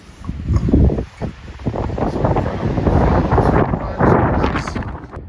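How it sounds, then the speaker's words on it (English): Strong wind gusting outdoors in Arizona near homes, a loud rough roar buffeting the microphone in uneven surges that swell and ease across the whole stretch, with no voices. "Let's go out into this wind and see what you think of the noise."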